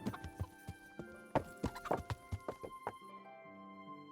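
Horse hooves clip-clop in the video game Kingdom Come Deliverance, a brisk run of near, distinct hoofbeats for about three seconds, then the steps stop and only soft ambient tones remain.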